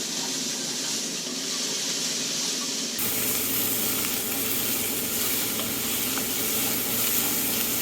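Garlic sizzles loudly in a pot for venison stew while being stirred, a dense steady hiss of frying that swells and holds close and constant throughout.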